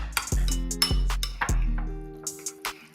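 A spoon mixes pickles and onions in a bowl, making several ringing clinks at irregular intervals, each with a lingering metallic tone.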